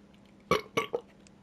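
A character in the video game Days Gone lets out a loud, close burp in three quick bursts.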